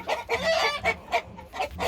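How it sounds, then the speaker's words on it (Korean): Hen and rooster fighting in a rooster pen, with repeated loud clucks and squawks in short overlapping bursts close by, no talk. "암탉하고 수탉하고 싸우네"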